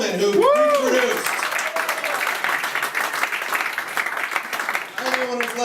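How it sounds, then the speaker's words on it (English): Audience applause at a live comedy podcast taping, sustained clapping from the crowd that swells for several seconds, with voices speaking over the start and end. "And clap it up for this gentleman who produced."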